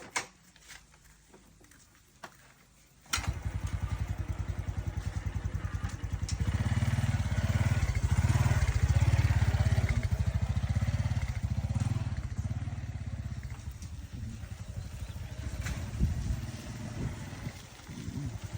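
A motorcycle being test-ridden near a home, its engine starting up after a quiet stretch and running steadily with a low, throbbing idle and revving that swells and settles, close by, with no talk.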